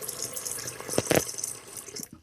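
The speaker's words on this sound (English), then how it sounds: "So now you got a bowl. You put cold water." Cold tap water runs steadily into a bowl at a kitchen sink, a continuous close splashing stream with a brief stronger gush midway before it is cut off at the end.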